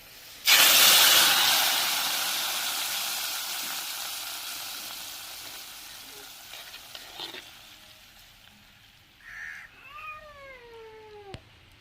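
A sudden loud sizzle erupts as spices hit hot oil for tempering fish curry, then slowly fades to a soft crackle; a cat meows near the end.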